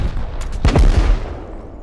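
Gunfire in the Rust video game: a short burst of several loud, close shots in quick succession, with a faint ambient bed around them and no talk.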